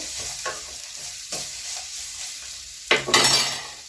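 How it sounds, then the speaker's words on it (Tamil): Sirukeerai spinach stems sauté in a pan for soup, with a low constant sizzle broken by several scraping stirs, and a louder burst of frying and stirring near the end. "இது ஒரே மாதிரி நல்லா பரட்டி விட்டுட்டு"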